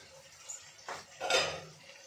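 A metal lid is placed over a cooking pan in a quiet kitchen, giving two or three close clanks and a brief scraping rattle.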